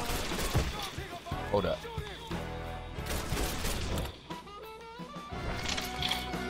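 Gunfire from a shootout in the video game Mafia III, with sharp bursts and crashes scattered through the scene alongside music and game sounds, while someone talks over the action.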